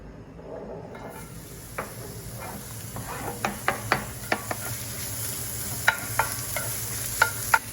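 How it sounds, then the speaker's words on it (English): Onions saute in hot oil in a pan, giving a steady close sizzle and hiss, punctuated by scattered taps and scrapes as they are stirred. "Let's get the oil in, saute those onions."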